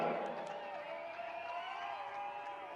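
A home crowd roars at a turf football stadium in Srinagar after a free-kick goal in an I-League match, a steady, fairly distant wash of cheering that holds for the whole stretch.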